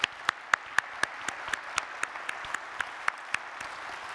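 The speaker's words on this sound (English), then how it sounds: "I'd like to give them all a round of applause" Sparse applause from a conference audience after a closing keynote: a few distinct, fairly regular claps stand out over a thin wash of clapping, moderately distant.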